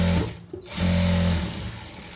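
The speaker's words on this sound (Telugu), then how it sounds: "దీని మీద నుంచి కుట్టు వేసుకుంటూ వచ్చేద్దాం. ఇలాగా కుట్టు వేసుకుంటూ" A sewing machine stitches a lined blouse in a steady close whirring run, stops briefly, then starts again and keeps running with a mechanical hum.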